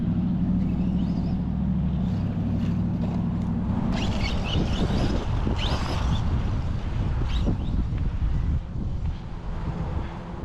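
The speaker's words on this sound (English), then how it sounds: "sorry about the wind" Heavy wind buffeting a microphone outdoors, a loud continuous low rumble with gusty crackles throughout, easing slightly near the end.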